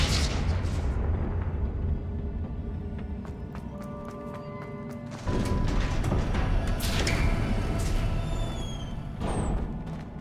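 Confringo blasting spell explosions in Hogwarts Legacy, sharp bursts and rumbling booms amid combat noise, with a sudden loud blast midway followed by sustained crackling and rumble.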